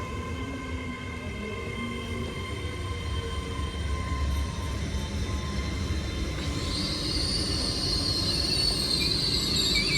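Avanti West Coast passenger train passing through Warrington Bank Quay station on its Blackpool North to London Euston run, a steady rumble of wheels on rail building louder, with a high wheel squeal rising in the last few seconds.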